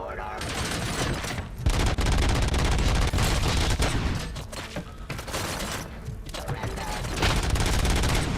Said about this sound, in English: They come with heavy machine guns.